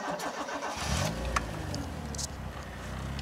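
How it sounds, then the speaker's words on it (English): A manual-transmission car engine cranks and catches about a second in, then settles into a steady, close idle with no one speaking. "So now let's start the engine again"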